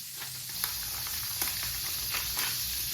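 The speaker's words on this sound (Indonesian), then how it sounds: "Terus kita kasih margarin. Nah, kita goreng ya." Margarine sizzles steadily in a pan as food fries for nasi goreng, a continuous close crackling hiss with faint stirring clicks and no talking.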